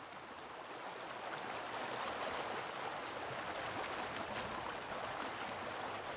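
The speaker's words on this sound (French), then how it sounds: "Ouais, il y a le ruisseau qui passe en contrebas." Mountain stream in the Chastreix-Sancy nature reserve flowing somewhere below: an even, continuous broadband rush of water, steady and moderately distant, with no voices over it.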